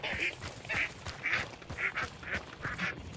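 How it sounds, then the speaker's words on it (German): Ducks quack repeatedly in the video game Hunt: Showdown, six or so nasal calls in a steady rhythm at moderate distance over low ambient game noise, without speech. "Ach, da sind die Enten."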